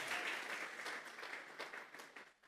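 Church congregation applauding during a sermon, a brief burst of many hands clapping at moderate distance that fades out over a couple of seconds.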